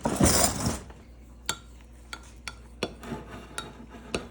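Baking soda being mixed into Head & Shoulders shampoo, opening with a brief louder rustle, then a spoon clinking and tapping against the container in sparse, irregular knocks, close and fairly quiet, with no speech.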